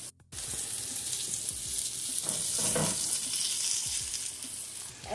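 Syrniki, Ukrainian farmer's cheese pancakes, fry in oil over low-medium heat with a steady, close crackling sizzle that runs almost the whole time, briefly swelling in the middle.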